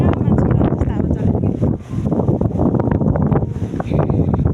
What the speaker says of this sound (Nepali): यहाँ मान्छे उडाएर जस्तो हावा चल्छ